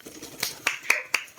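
A few sharp hand claps land one after another after a countdown, spaced roughly evenly, crisp and close against a quiet background.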